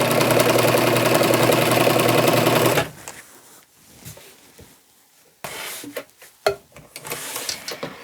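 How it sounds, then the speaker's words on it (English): A sewing machine runs fast and loud for about three seconds while stitching a braided boho beach dress, then stops, leaving quieter handling noises and fabric rustles. "You just keep sewing, and here I've already got a folded edge"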